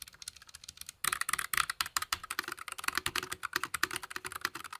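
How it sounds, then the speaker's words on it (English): Rapid typing on a mechanical keyboard with brown switches, a quick stream of crisp clicky keystrokes starting after a brief quiet moment, close and clear. "I'm using the brown switches on this keyboard and it sounds like this."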